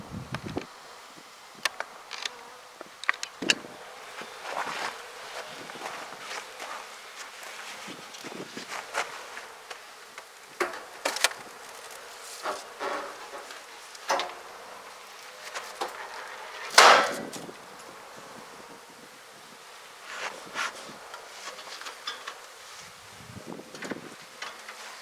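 Bees humming faintly around an open topbar hive during an early spring outdoor inspection, with scattered knocks and scrapes of handling the wooden bars and light footsteps, no voices.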